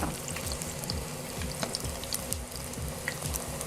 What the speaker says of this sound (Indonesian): Goreng hingga matang coklatan ya.